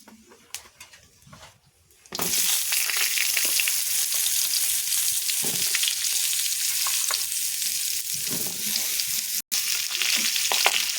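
Mixed vegetables hit hot oil already spitting with panch phoron spices: a quiet couple of seconds gives way to a sudden loud, sustained sizzle, with stirring and a momentary break near the end.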